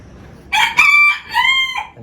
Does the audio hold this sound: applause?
no